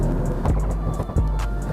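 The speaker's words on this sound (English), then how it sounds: "And this downpipe is just making insane noises." A BMW M340i xDrive fitted with an aftermarket downpipe rumbles low and close, with sharp crackles and pops breaking through its exhaust note in a short burst.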